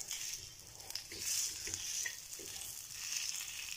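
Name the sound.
roasted spice masala frying in oil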